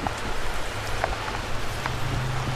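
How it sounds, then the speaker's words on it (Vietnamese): Heavy rain falls on an old ochna (mai) tree garden in Vietnam. Dense, steady patter comes close and continuous, with scattered sharper drops hitting surfaces and no talking. "À, mưa quá rồi em."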